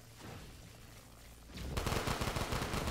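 Gunfire in a zombie video game: a quiet stretch gives way to a rapid burst of repeated shots, loud and sustained over the last second and a half.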